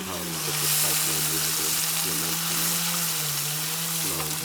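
Steady sizzling and crackling of food frying in a pan outdoors at a lakeside fishing spot, continuous throughout, with faint voices and a low hum underneath.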